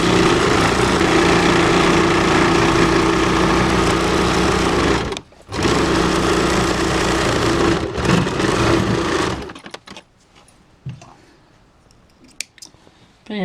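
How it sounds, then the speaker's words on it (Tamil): A sewing machine stitches around an inskirt hem with a fast, close, buzzing whir, running almost continuously for about nine seconds with one short pause, then stopping for quiet handling noises. "இப்போ எல்லாமே சுற்றி தையல் போட்டாச்சு."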